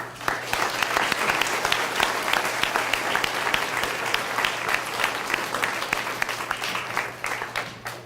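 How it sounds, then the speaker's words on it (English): An audience at an elementary school class event applauds steadily and loudly for about eight seconds, a dense, even wash of clapping hands throughout. "let's give them a round of applause."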